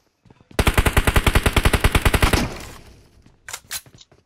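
Sustained automatic-weapon gunfire in the PUBG Mobile battle royale game: a loud, rapid burst of about twenty evenly spaced shots lasting roughly two seconds, then a fading echo and a couple of short, sharp follow-up sounds.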